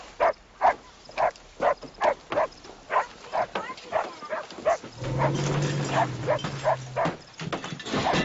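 A dog barks repeatedly in a quick, even rhythm, fairly close, with a low hum of background noise rising midway.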